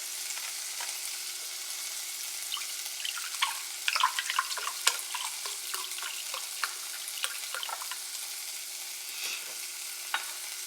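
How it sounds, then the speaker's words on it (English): Vegetable broth pours into a pot of homemade tomato soup, a close liquid splash and gurgle over a faint sizzle and steady electric hum, with scattered clinks and no voices. "I also gotta add in my broth too, which is 2 cups of that."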